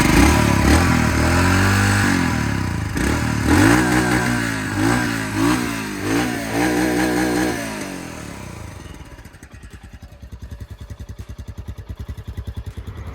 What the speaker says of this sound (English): let's listen to the exhaust note of this bike